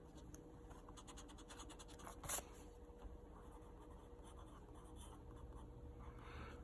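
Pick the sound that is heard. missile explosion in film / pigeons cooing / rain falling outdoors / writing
writing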